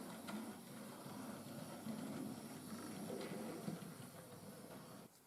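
A model SECR P class locomotive, a small-wheelbase engine, runs steadily along a model railway track, giving a continuous low rumbling hiss with faint clicks, alone at moderate level throughout.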